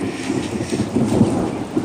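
Brief stretch of a thunderstorm: low rolling thunder rumbles under steady, fairly loud rainfall, with no one speaking.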